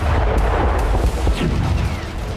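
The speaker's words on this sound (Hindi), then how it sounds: "डिप्रोपेट्रोवस्क में रूसी एयरफोर्स ने एक के बाद एक कई धमाके किए।" Explosions from Russian air force strikes in Dnipropetrovsk, Ukraine, heard as a dense, loud rumbling roar with low booms and crackling bursts layered throughout, continuous and heavy.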